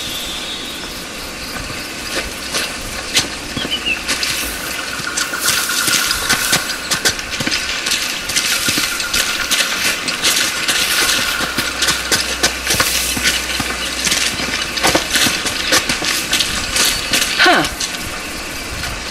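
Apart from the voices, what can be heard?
turning wheel retracting locks in video game Uncharted: The Lost Legacy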